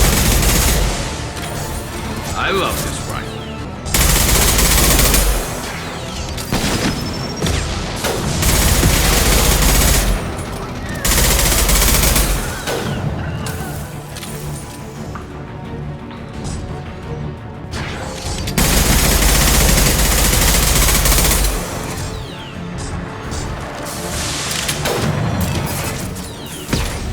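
Rifle gunfire in the Mass Effect 2 video game comes in loud, dense bursts separated by short lulls, with booms and crashes mixed into the combat.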